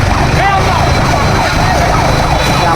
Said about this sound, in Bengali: আমাদের একটা অ্যাম্বুলেন্স আসতেছে